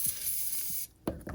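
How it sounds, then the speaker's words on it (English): A short burst of aerosol spray hisses close by into the gap between the retainer nut and lower unit casing of a Mercruiser outdrive, then cuts off, followed by a couple of faint clicks. "I want to spray in between the gap of the retainer nut and the casing of the lower unit."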